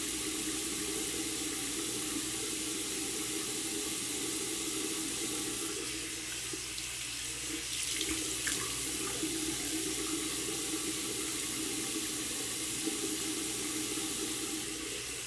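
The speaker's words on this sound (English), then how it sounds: "and then I'll give it one rinse" Tap water runs steadily into a sink while a face is rinsed during a lemongrass scrub mini facial, a continuous close splashing flow with slight changes in spatter partway through.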